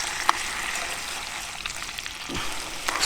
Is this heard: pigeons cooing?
no